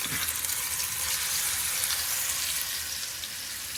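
Pork chops frying in hot grease, a loud continuous crackling sizzle close up, steady throughout with slight fluctuations.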